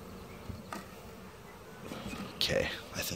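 Honey bees buzz around a hive opened to fit a propolis trap, a soft insect drone under low rustling, swelling louder near the end as a bee passes close to the microphone.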